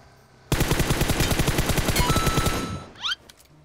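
Rapid automatic gunfire in a battle royale shooter game, a dense burst of sharp, evenly spaced shots lasting about two seconds, loud and close, ending with a short whooshing effect.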